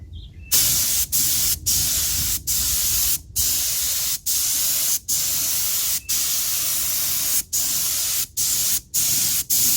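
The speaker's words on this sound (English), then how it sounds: "Black's the most difficult color to spray." Spray gun applying black paint to a mag wheel set on a dustbin to spin, a steady close hiss broken by about a dozen short pauses between bursts.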